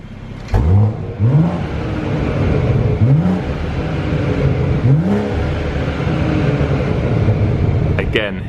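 Exhaust of a BMW F31 340i Touring revved in Sport Plus mode: several sharp, throaty blips rise and fall over a steady engine idle, with someone talking over the engine throughout.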